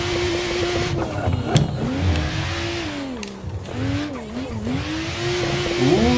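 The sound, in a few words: car drifting in video game Assetto Corsa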